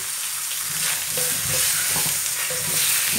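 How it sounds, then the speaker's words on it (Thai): Bitter gourd stir-fried in a pan with about two spoons of leftover pork-belly fat, a steady bright sizzle with soft scraping strokes of a spatula recurring every half second or so, close and alone. "ผัดไปเรื่อยๆให้มะระสลดนะคะ"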